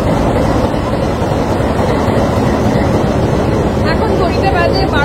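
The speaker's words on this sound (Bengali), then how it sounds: "তো আমাদের টয় ট্রেন চলে এসেছে, উটি টু কুন্নুর যাওয়ার ট্রেন।" The Ooty to Coonoor toy train arrives at the station with a loud, steady roar of rolling wheels and engine, dense and close throughout.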